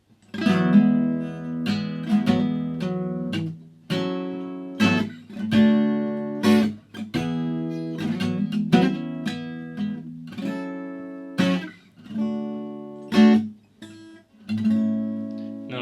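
An electric guitar strums a series of chords from a song, with sharp strummed attacks, short gaps and ringing sustains in a loose rhythm.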